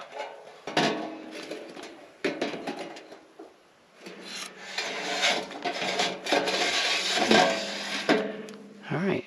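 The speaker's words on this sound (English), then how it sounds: "I'm going to grab my lid." Lid of a charcoal pizza oven being handled outdoors, with scraping, rubbing metal sounds and clunks that come in bursts over several seconds, close and fairly loud, with someone talking at times.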